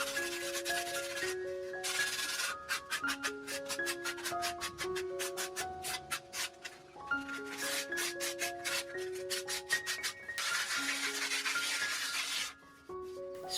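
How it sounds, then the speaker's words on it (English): Dried aerated concrete being lightly sanded on a 60 cm tall penguin sculpture, with quick rhythmic rasping strokes in bursts heard under a steady melodic music track. "After drying, I smooth the surface by sanding lightly."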